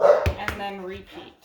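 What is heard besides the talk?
dog barking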